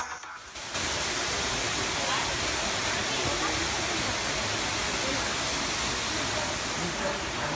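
A loud, steady roar of the Niagara Falls waterfall plays as a sound effect, kicking in abruptly after a short quieter lead-in and rushing on without a break.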